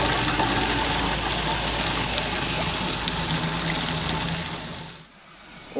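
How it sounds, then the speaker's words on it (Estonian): A water pump fills a canister at a roadside tap on a Balkan trip in Bulgaria, a steady loud gushing flow with a motor hum that cuts off near the end. "Siin on vee täitmine."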